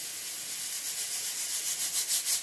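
Pressure cooker cooking matar dal, releasing steam as a faint, steady hiss that pulses and grows slightly stronger toward the end.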